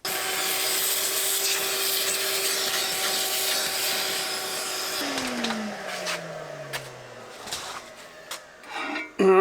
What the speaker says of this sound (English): I'm just going to hit it quick with a vacuum.